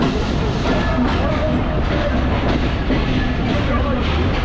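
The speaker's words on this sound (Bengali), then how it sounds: "আমাদের ট্রেন ছেড়ে দিয়েছে তিন নম্বর প্ল্যাটফর্ম থেকে" A Barendra Express train between Rajshahi and Chilahati rolls steadily along the rails with a constant loud rumble and faint rhythmic clatter, heard from inside a carriage.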